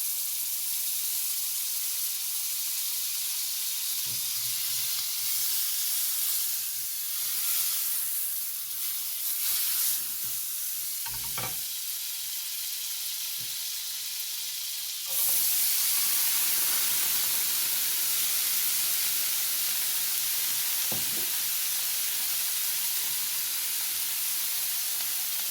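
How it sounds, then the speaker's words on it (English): Butter sizzles steadily in a hot pan over slightly lowered heat while a Christmas burger is cooked, a close, even hiss with a few soft clinks and a brief surge partway through; no one speaks. "now our pan is nice and hot. I'll lower the heat very slightly. And I'm gonna add my butter."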